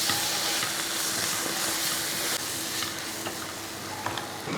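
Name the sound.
stirring beef masala with tomato in pan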